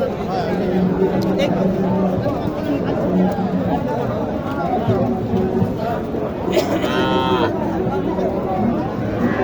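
A cow moos over the busy chatter of a crowded outdoor cattle market in Naogaon, Bangladesh, in rain, with voices talking throughout.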